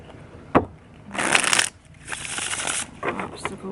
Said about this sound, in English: I ain't good at shuffling at all.